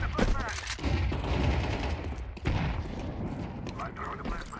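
Counter-Strike 2 match play with continuous gunfire bursts and booming utility throws, including a flashbang grenade, loud and dense throughout, with a voice calling out under the action.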